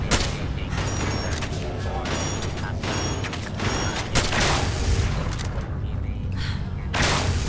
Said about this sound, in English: I'm getting a nail gun shot at me?